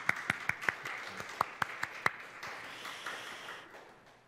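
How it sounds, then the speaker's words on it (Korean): A church congregation at a Korean Sunday worship service claps to welcome new member families: a handful of crisp, separate claps in a loose rhythm, quiet and a little distant, then thinning into a soft fading patter. "환영의 의미를 담아서 박수로"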